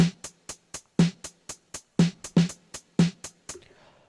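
A snare drum runs through a compressor in Ableton, giving about fifteen short, punchy, crackly hits in a quick regular pattern, some louder than others. The hits are close and dry, with a faint tail after the last one.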